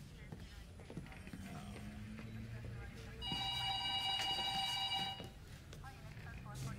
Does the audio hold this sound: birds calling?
no